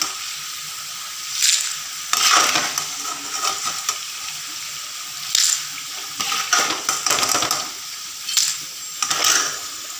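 Jackfruit pieces fry crisp in hot oil with a continuous close sizzle. Louder bursts of scraping and metal clatter from a pan and utensils recur throughout, with no talking.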